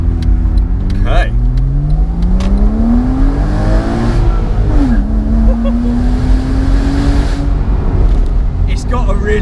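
A Porsche 987 Boxster S engine pulls hard under acceleration from inside the car, its note rising steadily through the gears with a brief dip at a shift, continuous and loud, with occasional voices talking over it.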